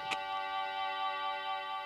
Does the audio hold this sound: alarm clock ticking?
yes